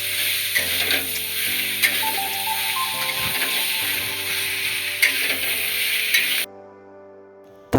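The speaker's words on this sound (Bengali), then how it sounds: "এবার আমরা খাসির চর্বিটাকে দিয়ে দেবো ও ভালো করে নেড়ে নেবো" Goat fat sizzles in spice-laden oil while being stirred, a loud continuous hiss with clinks of a spatula against the pan and a steady background hum, dropping away abruptly near the end.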